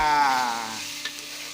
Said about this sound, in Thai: ตั้งกระทะ ผัดพริกแกงเผ็ด ให้พอมีกลิ่นหอม แล้วนำเนื้อปลาโอที่ลวกไว้ ลงไปคุกเข้าเลยจ้า